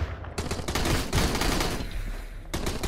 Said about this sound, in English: Oh, they launched the grenades.